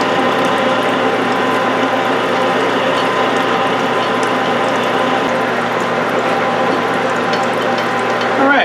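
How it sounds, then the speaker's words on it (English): A roughing reamer cuts a .308 rifle chamber in a Yugoslav M48A Mauser barrel, giving a steady, loud mechanical grinding and whirring drone that holds without a break, close by. "I still want to be real careful with the roughing reamer"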